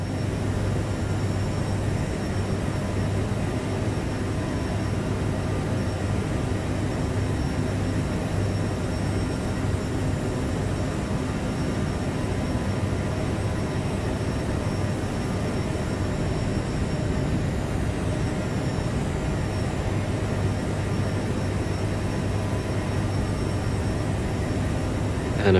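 An Aerosoft CRJ-700 jet climbs in Microsoft Flight Simulator, heard as a continuous, even engine and cabin drone at moderate level, unchanging for the whole stretch with no voices.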